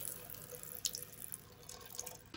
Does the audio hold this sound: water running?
yes